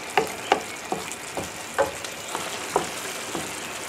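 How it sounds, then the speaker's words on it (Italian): Tomato sauce with tuna cooking in a pan, giving a gentle sizzle with about eight light clicks of a utensil at a loose, regular rhythm. No one speaks. "Faremo insaporire il sugo con il tonno appena altri 2-3 minuti"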